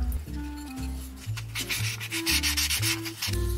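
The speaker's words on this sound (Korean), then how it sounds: "600번 정도 되는 사포로 살짝 갈아주겠습니다" Steady back-and-forth rubbing of 600-grit sandpaper on a hardened lacquered wooden coin purse, raspy strokes repeating close up with no talking.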